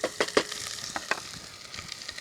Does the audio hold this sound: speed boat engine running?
no